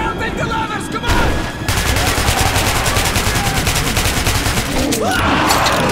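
Heavy gunfire in Metro 2033 Redux: a dense burst of automatic fire erupts after a second, then rapid repeated shots continue loudly and close, with shouting voices mixed in.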